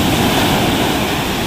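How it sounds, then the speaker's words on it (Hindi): Sea waves wash steadily onto a beach in Goa, a loud, close, continuous roar of surf with some wind buffeting the microphone and no talking. "समंदर के लहरों के आवाज का आप लोग एंजॉय लीजिए"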